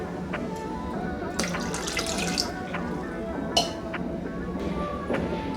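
Water is poured into a pot of thick rasam, making a soft, continuous close splashing and trickling sound with a few brief clinks.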